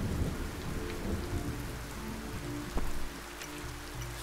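Summoned thunderstorm in Rogue Heroes: Ruins of Tasos: dense rain hissing steadily over a deep rolling rumble of thunder, with a brief sharper crack near the end, close and fairly loud with no talking.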